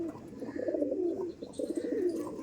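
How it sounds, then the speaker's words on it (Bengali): Pigeons of the Andra and Chennai Madras breeds cooing in a loft, soft low throaty coos rising and falling in two bursts, fairly faint and close, with light ambient noise. "দেখুন পায়রাগুলো দেখুন"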